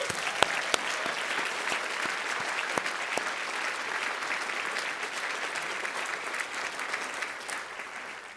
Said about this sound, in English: How about a round of applause for 2 great patrons of the arts, Robert and Sylvia Mantella.